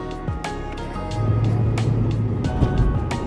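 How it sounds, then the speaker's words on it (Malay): A Honda Integra DC5 sport coupe on a test drive, its engine drone rising as it pulls away, steady and close inside the cabin with occasional thumps and clicks. "Jom kita test drive kereta ni."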